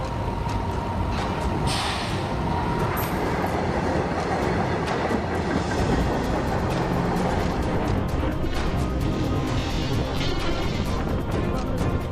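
High-speed train passing at full speed, a loud, dense, continuous rushing roar with rattling wheel noise throughout, steady and close.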